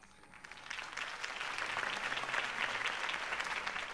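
Applause from a crowd swells up quickly and holds steady, many hands clapping at once in a dense, continuous patter.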